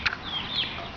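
Barred Rock and Buff Orpington laying hens in a backyard chick pen give a few short, soft clucks and chirps, close by, with a faint farmyard background.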